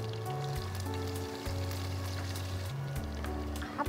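Chopped onions hiss and sizzle in hot oil in a kitchen pan, a quiet steady frying crackle under a droning hum.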